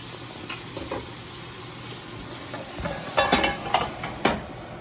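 Green beans sauté in butter in a large pan with a quiet background sizzle, broken near the end by a few sharp clacks of a utensil stirring against the pan. No voices.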